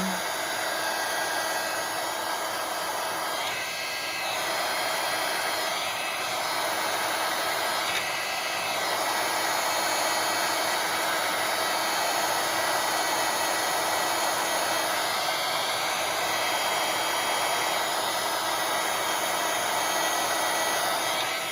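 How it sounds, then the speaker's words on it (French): Heat gun melting embossing powder for an art collage, a loud, continuous blowing whir like a hair dryer running steadily and close throughout, without any talking. "avec le heat gun, je viens chauffer ma poudre à embosser jusqu'à temps qu'elle apparaisse"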